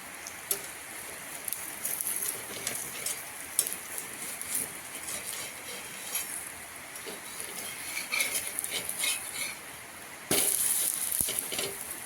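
A thalipeeth (dhapate) mixed-flour flatbread roasting in a pan gives a continuous close sizzle and crackle, with occasional clinks and a louder burst of hissing near the end, no speech.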